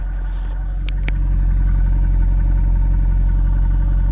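Mercedes SLS with a naturally aspirated 6.2-litre V8 idles with a deep, steady exhaust burble, loud and close, swelling slightly after the first second and holding alone with no talk.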